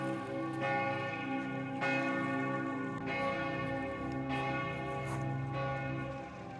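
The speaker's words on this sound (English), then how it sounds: "we walked through the old town square as the bells rang" Church bells in an old town square in Switzerland ring out in a slow, regular rhythm, each strike leaving a rich, lingering hum, heard from a moderate distance.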